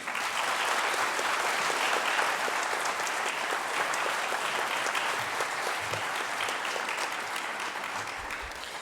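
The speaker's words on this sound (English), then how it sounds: "So let's give her a big round of applause." An audience applauds at a 2023 high school baccalaureate ceremony in Keene, a dense, steady clapping that carries at full strength for about nine seconds and eases off slightly toward the end.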